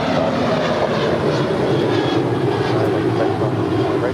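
A 28-year-old Airbus A320 airliner at LAX, originally delivered to United Airlines in 1993, gives a loud, steady jet engine roar that holds without a break throughout.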